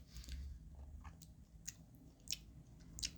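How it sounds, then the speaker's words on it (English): Someone chews Big League Chew gum close to a microphone during a wrestling talk podcast, giving faint, moist smacks and clicks at irregular intervals over a low background hum. "Stop chewing so fucking loud."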